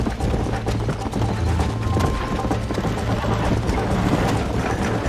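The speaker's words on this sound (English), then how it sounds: "Vai cansar agora o cavalo." A horse gallops in the video game Red Dead Redemption, its hooves clip-clopping in a fast, steady rhythm that runs loud and close throughout the clip.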